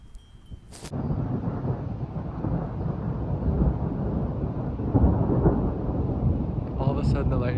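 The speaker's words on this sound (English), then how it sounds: "All of a sudden, the lightning and thunder just got crazy." Heavy thunder in the Italian Alps rolls on in a continuous deep rumble, loud and close, with lightning and a steady wash of rain-like noise beneath it.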